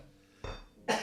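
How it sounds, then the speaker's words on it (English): Two short, quiet coughs from a sick person, one after the other, close by in an otherwise silent room. "your host is very sick, so I might cough sometimes."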